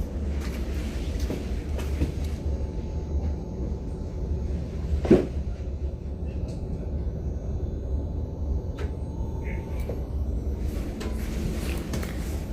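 A train rolls along the rails with a steady low rumble and soft clickety-clack from the wagons, heard from inside, with one sharp clank midway and faint scattered knocks.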